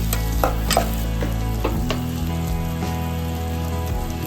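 Egg frying in a pan with turmeric and ginger-garlic paste, a loud close sizzle with a few spatula scrapes early on, no voices.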